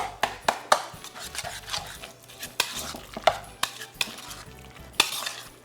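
Swordfish dip for an appetizer is stirred in a bowl with a utensil, giving close, irregular knocks and scrapes against the bowl over a soft, wet, mushy mixing sound.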